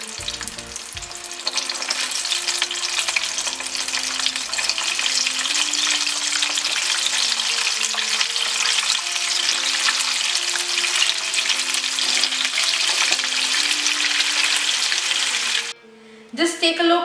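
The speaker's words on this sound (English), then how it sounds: "That's the second time we are frying the chicken." Chicken pieces sizzle in hot oil during a second fry for crispy KFC-style chicken, a loud, steady crackling hiss that holds for most of the stretch before briefly dropping and resuming, with faint voices in the background.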